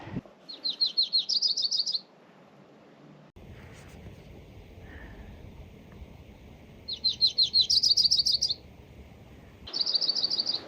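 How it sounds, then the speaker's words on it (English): A yellow-rumped warbler sings bright, high trilled phrases in short bursts separated by pauses, fairly close, over a soft outdoor background on a sunny trail. "I looked up with the sound ID, and he's a yellow rumped warbler."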